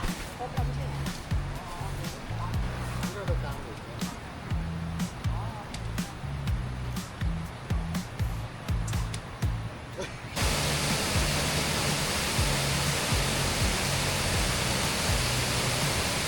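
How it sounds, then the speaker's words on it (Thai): Khlong Lan waterfall in a Thai national park gives a constant broad rush of falling water, steady and full. A voice and background music sit over it in the first part before the roar continues alone. "ฟังเสียงน้ำตกไป"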